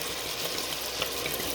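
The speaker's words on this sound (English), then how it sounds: "Now we're gonna pour a whole bottle. Yep, that's right. I said a whole bottle of Merlot" A whole bottle of Merlot wine is poured into a pot, a steady gurgling stream of liquid that runs continuously and fairly close, without any talk.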